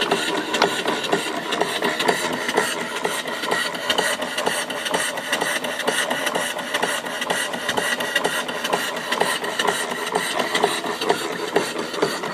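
A mill steam engine with a flyball governor, a box bed engine with 3-inch bore, 3.5-inch stroke and a big flywheel, runs with a steady rapid mechanical chatter and knock, even and unbroken throughout.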